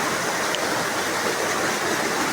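Steady broadband rush of falling water at a hillside waterfall, continuous and fairly loud with no letup, wind mixed into the roar and no voices.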